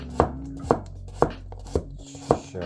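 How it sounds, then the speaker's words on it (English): A Toyama gyuto knife chops straight down through a thick carrot on a cutting board, five crisp, evenly spaced thuds about half a second apart, close and clear with no talk. "Sharp enough to go through a carrot just straight up and down chopping as well."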